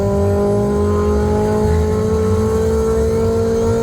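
Loud, sustained engine drone as a turbocharged Golf drag races a naturally aspirated car, a steady high-revving pull heard close with no break and no talk.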